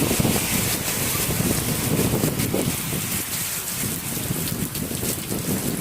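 Heavy rain pours steadily and loudly, a dense, unbroken hiss of water with gusty noise and no pauses.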